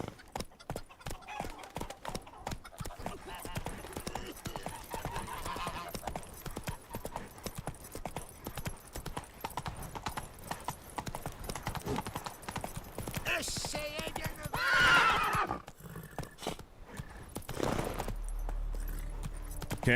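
Roach the horse gallops in The Witcher 3 with continuous rapid hoofbeats, close and steady, as someone talks over the top and a brief whinny rises near the end.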